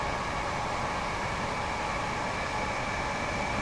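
Train rushing past at around 80 mph in Train Sim World 2 on the Gatwick Express London commuter route, a steady loud broadband roar of wheels and air filling the whole moment without pause.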